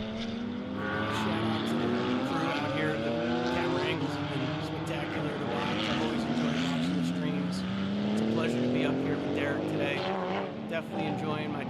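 Aston Martin Vantage GT4 race car at a club member challenge race, engine droning and climbing through the revs with gear changes, heard from the cabin alongside rushing noise and talk.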